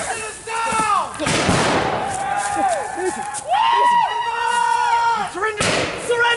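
Musket volleys crack out in a King's Mountain battle reenactment: sharp broadband bursts, one early and one near the end, under loud, continuous shouted commands from men.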